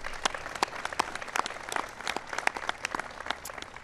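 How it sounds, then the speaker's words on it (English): An audience applauds for Gil Kerlikowske at a police-honours event, with a soft, distant patter of many hands clapping continuously without a voice. "Give Gil a big round of applause."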